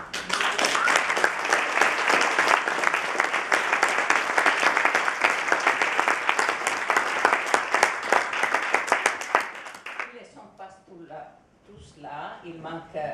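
A conference audience applauds the organizing team at a European event, with dense, sustained clapping from many hands for about nine seconds, then a quick fade as a voice begins speaking.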